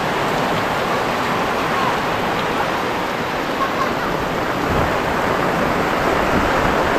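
Heavy typhoon rain pours down in a dense, continuous roar, loud and close, with a steady broadband wash and no breaks.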